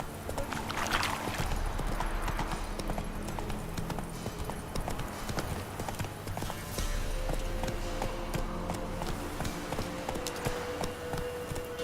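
Roach, Geralt's horse in the video game The Witcher 3: Wild Hunt, gallops with a continuous, even clatter of hooves under a dense game soundscape of wind and background effects, steady and moderately loud throughout.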